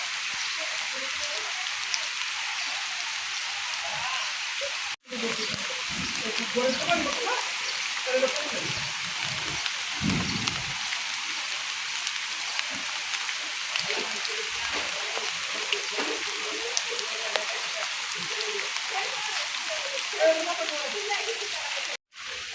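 Steady rain falls on a village throughout with a constant broad hiss and soft scattered patter, even and unbroken from start to finish.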